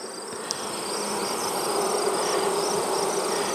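Honey bees buzzing at a beehive during an open hive inspection, a dense steady hum close by and fairly quiet, with no voices over it.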